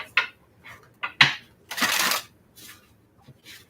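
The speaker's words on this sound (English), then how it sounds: "No, last shuffle, guys." A deck of tarot cards is shuffled close up in quick bursts, riffling and slapping together in a handful of short dry rustles with brief pauses, the longest burst in the middle.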